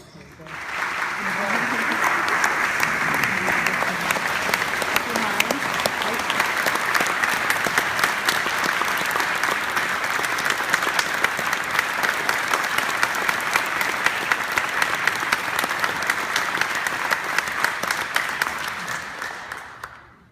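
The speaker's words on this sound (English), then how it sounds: "Thank you very much for that applause." An audience at an award ceremony gives sustained, dense applause that rises quickly and holds steady for about twenty seconds before fading, with crowd noise mixed in.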